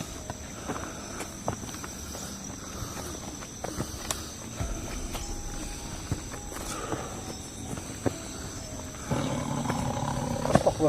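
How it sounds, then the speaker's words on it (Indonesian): A tiger roars faintly in the distance on Mount Slamet, half lost under footsteps, rustling and outdoor noise; no one speaks. "Ada suara harimau."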